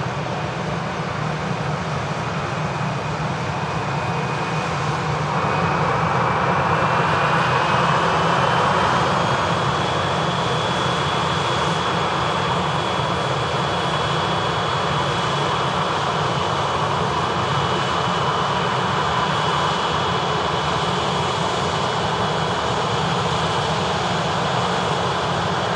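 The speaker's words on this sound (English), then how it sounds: "EasyJet just taxiing off." EasyJet airliner taxiing at Manchester Airport, a steady engine roar and whine with a rising tone, constant and moderately loud throughout.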